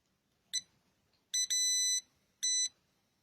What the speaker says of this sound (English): Got my continuity tester.